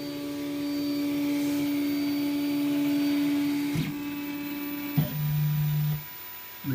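Leapfrog Creatr HS 3D printer motors whirring as the nozzle travels back to its home position, a steady close mechanical hum with shifting tones and small clicks as the movement stops and restarts, no talk.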